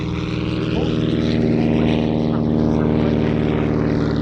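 A Cessna 170 propeller aircraft drones loudly and steadily at an air show, a continuous buzzing engine hum with a faint voice beneath it.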